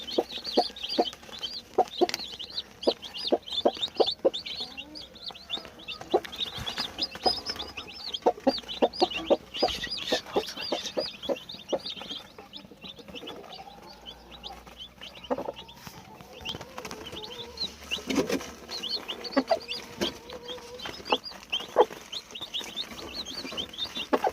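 A hen clucks steadily among the high, rapid peeping of many young chicks, close by in a farmyard coop, with a short rustling of wings and a few louder clucks through the middle.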